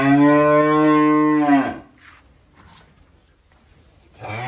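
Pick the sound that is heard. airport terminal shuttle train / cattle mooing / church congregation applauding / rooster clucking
cattle mooing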